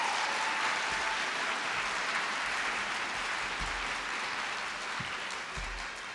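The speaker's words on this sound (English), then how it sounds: "I would like to just have a moment to do a round of applause for Ms." An awards-ceremony audience for a physician assistant program claps in a steady, dense round of applause that holds at moderate level and eases slightly toward the end, with no one speaking over it.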